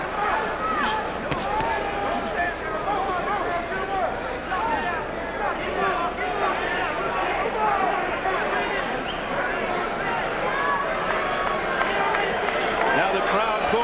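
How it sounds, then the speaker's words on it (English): A boxing arena crowd at the 1994 Simon Brown vs Terry Norris rematch keeps up a dense, steady roar of booing and murmuring throughout, with a commentator talking over it. "Now the crowd booing."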